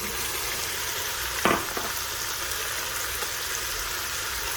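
Half an onion drops into a Ninja Foodi pot already sizzling with seasoned beef, giving a brief louder hiss and crackle over a steady, even frying sizzle that continues throughout.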